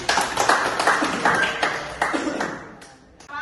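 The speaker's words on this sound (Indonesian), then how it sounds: "Tepuk tangan." A small audience in a classroom claps after a student group finishes a presentation on a transformer circuit, a run of close, uneven claps that thins out near the end.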